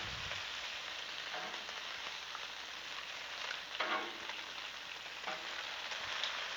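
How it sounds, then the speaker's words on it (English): Bacon sizzling and crackling on a Blackstone flat-top griddle, a steady quiet hiss with a few louder spits and scrapes as strips are flipped. "Give our bacon a quick flip here."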